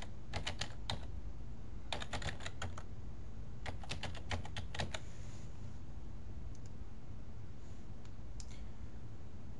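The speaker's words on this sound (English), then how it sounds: "So I'm gonna go ahead and enter in my username and password." A computer keyboard is typed on in quick clustered bursts of crisp, close key clicks separated by short pauses, as a username and password are entered.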